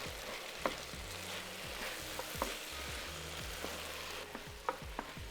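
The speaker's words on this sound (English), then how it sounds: "Next in goes 3 cloves of minced garlic. Stir it together and cook for a further minute." Chopped onion and minced garlic sizzling in a pan while being stirred, a steady soft frying hiss broken by occasional scraping knocks of the spoon, close and fairly quiet with no talk.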